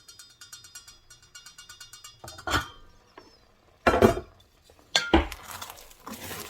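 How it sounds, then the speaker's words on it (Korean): Utensil scraping and clinking in a pot of rice on the stove, a run of light rhythmic taps followed by several louder, close metallic scrapes and knocks with no one speaking. "냄비에 밥을 할 때는 눌지 않고 타지 않도록 열심히 저어줘야 합니다"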